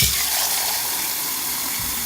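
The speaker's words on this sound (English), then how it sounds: "So I'll just fill it up with water." Cold tap water runs into a 600 ml measuring jug, a steady bright hiss and splash close by, continuous throughout with no talk.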